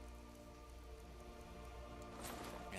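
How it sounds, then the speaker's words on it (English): Steady rain patters and drips on surfaces in a soft, continuous wash, faint and low in level, growing slightly more pronounced toward the end. "rain's getting a little loud over here"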